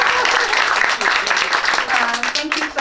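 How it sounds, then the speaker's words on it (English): Graduation ceremony audience applauds for a homeroom teacher, a dense, loud wash of clapping that holds steady for a few seconds with voices mixed in the crowd. "Round of applause."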